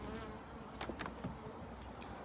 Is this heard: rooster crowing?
no